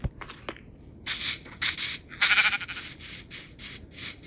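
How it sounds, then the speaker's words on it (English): Goats bleating in Minecraft, with repeated short nasal bleats in quick succession, moderately loud and close, without talk over them. "Goaty goats."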